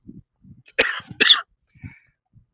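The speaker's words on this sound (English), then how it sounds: "Yes, I still have the cough." A person coughs twice in quick succession, close and fairly loud, with quiet throat sounds before and after.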